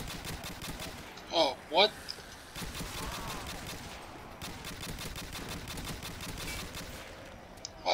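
Gunfire in a Call of Duty: World at War zombies gun game on an abandoned school map: two sharp bursts stand out early against a steady wash of busy game noise, with a voice talking over it.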